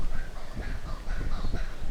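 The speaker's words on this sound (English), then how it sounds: "letting all in the area know it has arrived by its loud screeching" A sulphur-crested cockatoo screeches loudly and harshly in a continuous raucous burst close by at a lagoon.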